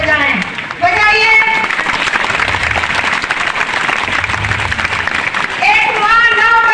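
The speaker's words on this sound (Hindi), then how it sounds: "आज मैं चाहती हूँ अपने माता पिता के लिए जोरदार ताली बजाएं" Loud sustained applause from a large audience at a Kharia tribe youth gathering, continuous clapping filling the room while a voice speaks over it through a sound system.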